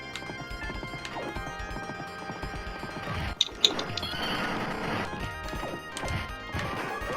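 In a retro video game, a horse neighs amid game music and sound effects, with a couple of sharp crashing hits near the middle and clopping hooves mixed into the busy soundtrack.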